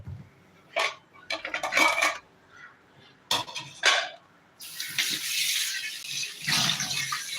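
A live crab is dropped into water in a metal vessel, with scattered clanks and knocks of the pot followed by a longer stretch of splashing, running water, all close and without speech.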